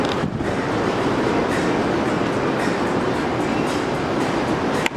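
Torrential rain drums on a Walmart roof during a tornado warning, a loud, unbroken roaring wash that holds steady for several seconds, with one brief knock near the end and no talking.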